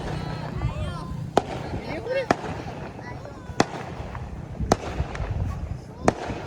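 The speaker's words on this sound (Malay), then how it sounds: "Main bunga api." Sharp firework bangs crack out every second or so during Hari Raya Aidilfitri, some near, some farther off, while people chatter and call out underneath.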